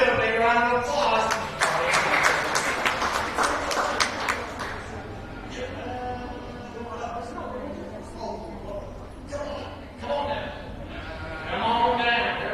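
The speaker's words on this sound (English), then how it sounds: "Okay, let's give a big round of applause" Audience clapping at a county fair sheep and lamb show, a dense burst of applause early that thins into scattered claps, with a voice talking over it throughout.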